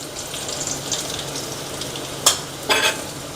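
Onion gets stirred with turmeric and curry leaves in a hot pan just after the gas is switched off, giving a steady close sizzle with two brief scraping stirs near the end.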